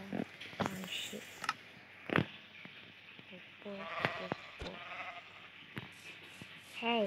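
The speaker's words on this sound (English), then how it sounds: "Want to spawn a sheep? Polar bear and sheep." Sheep in the game Minecraft bleat in several short calls between clicks and game effects, while a player talks over them now and then.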